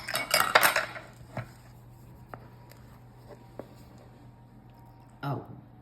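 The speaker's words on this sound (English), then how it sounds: "now we're going to take spatula and dump it into our 9x13 greased" Thick batter scraped with a spatula from a bowl into a greased 9x13 baking pan, starting with a loud burst of metal scraping and clinking, then a few sparse taps and knocks over a low hum, and one more scrape at the end.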